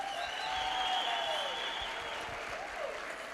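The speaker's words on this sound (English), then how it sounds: "can we give Mr. Godlo and the Unilever team a round of applause?" An audience applauds the Unilever team at a youth empowerment week event, a steady wash of many hands clapping that swells and then holds on through the whole stretch.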